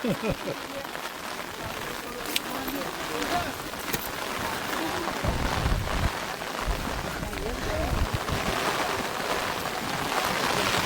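Steady rain pattering on surfaces close by, with people talking over it now and then.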